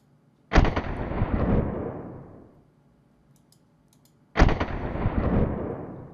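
Gunfire in the video game World of Guns, heard as two loud, sharp bursts of shots, each trailing into a long fading roar with a short quiet gap between them.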